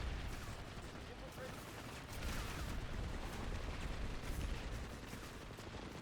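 Dense crackling gunfire from a chaotic multiplayer video game battle, a busy continuous wash of distant shots and bursts with a slight swell midway, under a voice.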